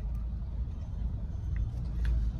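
A steady low engine rumble and road noise from inside a moving car, continuous and fairly loud, with faint ticking sounds.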